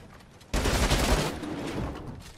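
Sustained burst of Fortnite gunfire that starts abruptly and stays loud and dense for about two seconds, with no talk over it.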